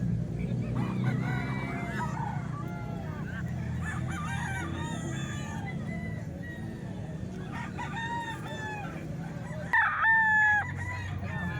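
Roosters crow and chickens cluck at a poultry sale, several calls rising over a steady low background rumble, with one louder, closer crow near the end.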